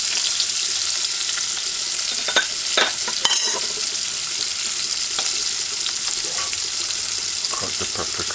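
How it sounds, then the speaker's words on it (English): Onions sautéing in a pan for an ackee and saltfish dinner, a steady sizzle of frying with a few scattered clinks and stirring noises on top. "Now you can add the onions. Just allow it to saute."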